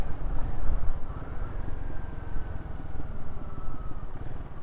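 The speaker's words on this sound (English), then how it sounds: "Nice little pop, pop, pop out the exhaust." Royal Enfield Guerrilla 450 motorcycle riding on UK roads, a low engine drone with uneven exhaust pulses and buffeting wind noise, close and fairly loud, no talk.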